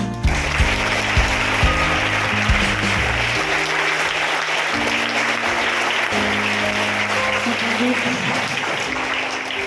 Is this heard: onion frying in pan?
no